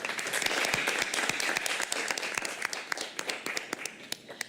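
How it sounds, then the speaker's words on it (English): Audience applause at a school board meeting honoring teachers, a dense, steady patter of many hands clapping that thins out toward the end. "A round of applause for Sharon"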